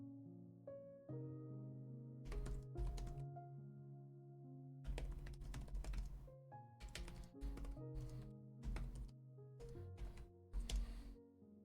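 Quiet bursts of clicky computer keyboard typing come in short clusters and runs, close up, over a soft sustained musical background during a streamed co-working session.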